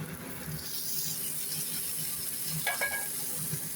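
Chopped tomato hits fried spices in a pan for homemade rajma masala, a steady close sizzle with stirring scrapes and a brief metallic clink of the spoon.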